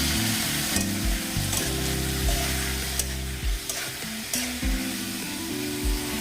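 Turmeric and coriander powder frying in a pan with a splash of water for a Bengali puti fish curry, a steady bubbling sizzle with occasional stirring scrapes, close and moderately loud.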